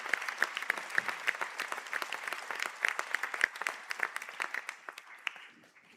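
Applause rises from the audience for postgraduate and master's graduates standing at a college conferring ceremony in Sligo, a dense patter of many hands clapping steadily throughout before thinning toward the end.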